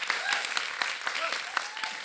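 An audience gives a brief test round of applause at a leadership event: scattered, fairly faint claps come in bursts while a voice talks over them.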